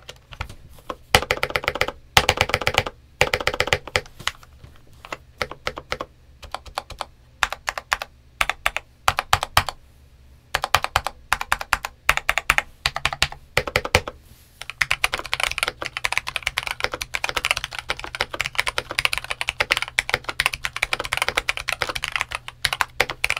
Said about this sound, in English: So here we are with my modded Eyooso K620. I was aiming for a little bit more clack